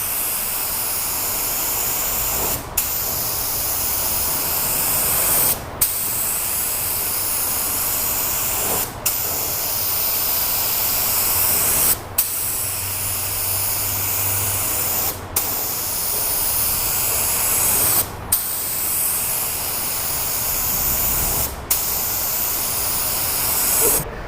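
A spray gun laying automotive clear coat hisses loudly and steadily in long passes, each cut by a short pause about every three seconds as the trigger releases, with no voices.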